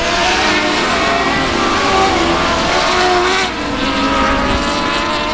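Race cars roar around the South Texas Speedway oval in a steady, loud wall of engine noise, with engines revving continuously and a brief dip in the sound partway through.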